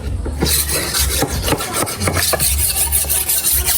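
A bolo knife (itak) being sharpened outdoors, with a steady run of rasping, rubbing strokes repeated in quick succession, loud and close, with no voices.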